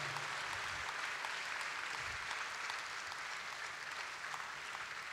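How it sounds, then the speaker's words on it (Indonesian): A hall full of people gives a standing, thunderous round of applause at a university's 45th anniversary launch ceremony, dense sustained clapping at a constant moderate level throughout, with no voices on top. "warga Dewan Chancellor berikan satu tepukan gemuruh buat mereka"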